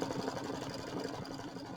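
An embroidery machine stitches a heavy triple stitch around lettering and snowflake designs on a winter-themed quilt block, running as a steady, fast mechanical chatter at even volume with no voices.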